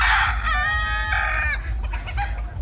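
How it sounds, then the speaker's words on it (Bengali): A Tiger breed rooster calls close by and loud, with drawn-out harmonic crowing-like cries followed by quicker clucks, alone without any talk. "দেখুন এই যে টাইগার মোরগ"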